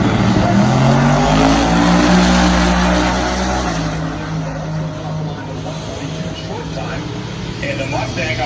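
A 1967 Chevelle drag car with an Oldsmobile engine that revs to 5,500 RPM roars at Drag Week 2019. The loud engine drone holds steady, then its pitch drops and it settles lower, under a commentator's continuous talk.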